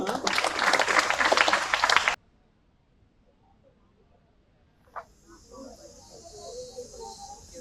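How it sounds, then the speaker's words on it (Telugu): Audience clapping at a Savitribai Phule birth anniversary event sounds as a dense burst for about two seconds, then stops abruptly into near silence before faint voices and room noise return. "చప్పట్లు కొట్టండమ్మా."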